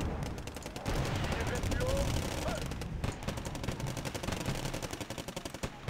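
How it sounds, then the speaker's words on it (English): Artillery and gunfire in the wargame Wargame AirLand Battle, dense rapid bursts of shots and booms continuing throughout at moderate loudness, with a voice talking intermittently underneath. "So we're going to start calling in artillery right on top of that."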